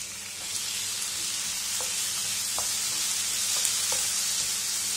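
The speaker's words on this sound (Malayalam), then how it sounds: "ടൊമാറ്റോ നന്നായിട്ട് സോഫ്റ്റ് ആയി വരുന്നത് വരെ നമുക്ക് ഇളക്കിക്കൊണ്ടിരിക്കാം" Chopped tomato and onions frying in a pan for egg bhurji, a steady close sizzle running throughout with a few light scrapes of stirring; no talking.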